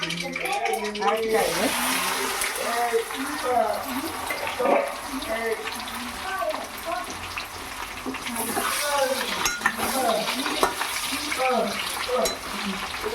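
Raw banana tempering for a Rayalaseema-style dish sizzles and hisses steadily as it fries in a pan and is stirred, with a voice talking over the cooking throughout.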